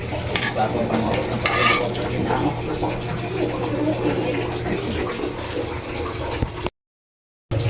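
Dried fish (daing) and chicken sizzle in a pan, with steady close frying crackle, stirring scrapes and clatter of cookware, briefly cutting to silence near the end.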